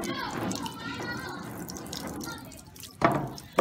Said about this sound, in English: Continue spraying until all the openings or designs are clear from unwanted photo emulsion